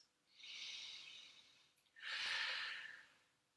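Two slow, deep breaths during a relaxing exercise class, each a long airy exhale of about a second and a half, close and soft with a short pause between them and no talk.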